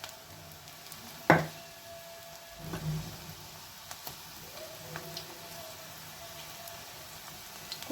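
Onion and green chilli bhaji fritters deep frying in hot oil over medium gas, giving a faint, steady sizzle throughout with one sharp clatter near the start and a few soft knocks.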